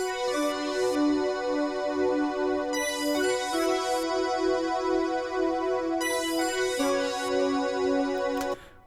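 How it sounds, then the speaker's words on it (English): Three layered synthesizer sounds from a Roland JP-08 play sustained, bright stacked chord tones that shift in a few steps, steady and loud, ending abruptly near the close. "Which is made up of these 3 sounds, all from the Roland JP-08."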